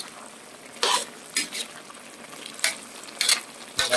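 Stir-frying a northern Thai frog dish (khua khae khiat) in a pan, with a spatula scraping and stirring in repeated loud bursts over a steady dry sizzle, close by and without talk.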